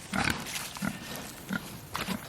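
Pigs being finished for butcher on a farm grunt in short close bursts, four or five snorts spaced about half a second apart.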